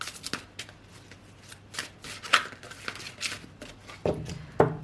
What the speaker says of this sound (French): Je vais plutôt faire couper 3 fois, couper 3 tas et les rejoindre.